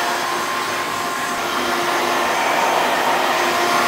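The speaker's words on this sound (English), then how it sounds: "Diffuser off, nozzle on. I'm gonna blast the top now." A hair dryer fitted with a nozzle blasts air through hair in a steady, loud, unbroken roar.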